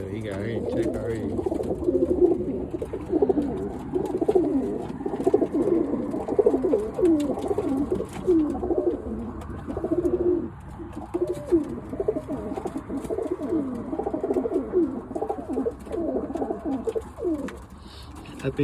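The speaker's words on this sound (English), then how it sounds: "There we got my birds going." Birmingham roller pigeons cooing continuously at close range, a dense overlapping flock of throaty coos, with a person's voice occasionally mixed in.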